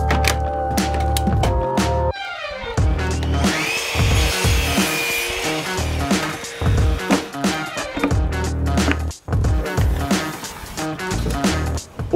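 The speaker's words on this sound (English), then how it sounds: "now I need to cut them to length on the mitre saw" Mitre saw cutting wood strips to length for a herringbone pattern, with repeated loud bursts of blade whine and rasping cuts, dense and continuous, with short breaks between pieces.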